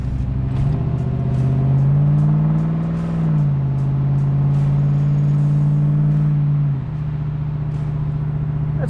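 A 1969 Camaro V8 with Flowmaster exhaust idles and revs loud and close, a deep steady drone with pitch swells, a dip and a sudden drop back to a rumbling idle near the end.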